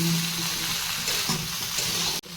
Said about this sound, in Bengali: এবার এটাতে একটু জল দেওয়া হবে যাতে সবজিগুলো এবার সেদ্ধ হয় ভালো করে।